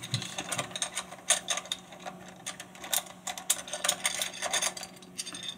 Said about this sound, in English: Make sure you loosen these up at the same time. Two screws.